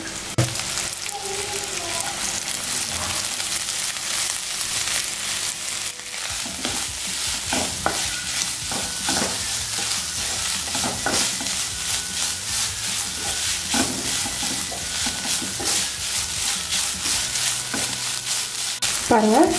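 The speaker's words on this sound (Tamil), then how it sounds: "பாருங்க, இப்போ சிக்கன் நல்லா ஃப்ரை ஆயிடுச்சு." Shredded chicken fries in a pan for pepper chicken and is stirred steadily, giving a loud, continuous sizzle with repeated scraping strokes and no talking.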